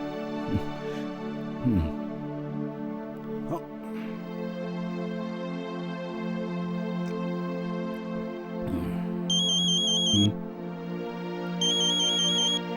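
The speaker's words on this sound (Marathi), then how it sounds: "बेटा घे, आशाचा फोन आहे." A phone rings with two short bursts of electronic ringtone over soft, sustained background music.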